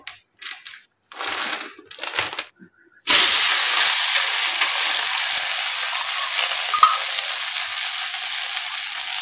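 After a few brief handling thumps, sabudana thalipeeth hits a hot oiled iron tawa and sets off a sudden, loud, steady sizzle that carries on without a break.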